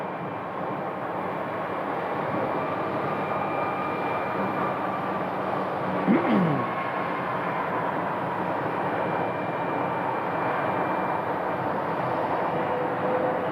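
Airliner flight 3304 from Sioux Falls, South Dakota, landing at Phoenix Sky Harbor airport: a steady, broad jet roar with a low rumble holds throughout, and a brief swelling sweep comes near the middle.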